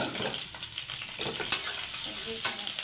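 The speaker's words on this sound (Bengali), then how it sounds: "তারপরে এই যে বুটটা বাগার দিয়ে দিব" Chickpeas tempered in hot oil in a home kitchen sizzle and spit steadily in a pan, a continuous fry with occasional louder crackles and stirring scrapes, close and fairly loud, with no talking.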